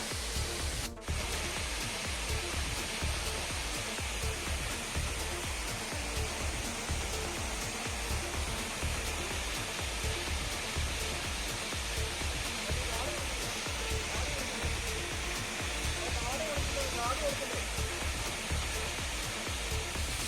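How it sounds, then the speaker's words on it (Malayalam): A mountain waterfall on a high trek at about 3500 feet roars in a dense, unbroken rush of falling water, loud and close, with a brief knock near the start. "നമ്മൾ വെള്ളച്ചാട്ടത്തിൻ്റെ അടുത്തെത്തിയിരിക്കുകയാണ്"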